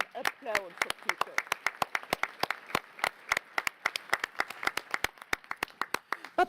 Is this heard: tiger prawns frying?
no